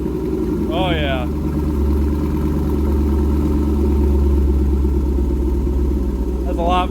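A Chevrolet Camaro SS V8 with high flow catalytic converters rumbles steadily at idle, low and continuous, with brief bits of a voice over it near the start and end.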